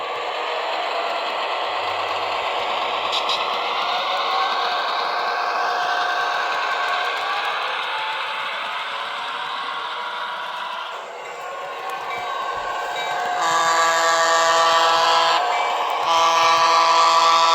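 An Athearn model locomotive runs with a continuous mechanical rumble and rattling that shifts in tone, growing louder with brighter clatter toward the end.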